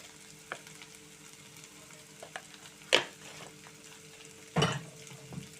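Turmeric is sprinkled into hot oil with fried chana dal and urad dal for Bombay chutney, giving a soft, steady sizzle broken by two louder bursts of frying hiss and a few light clicks of a spoon.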